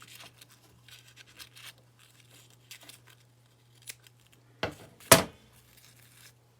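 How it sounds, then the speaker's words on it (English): Scissors snip off a loop of craft material, with a couple of sharp close cuts near the end following light rustling and handling noises. "I'll just do one more loop and cut that part off"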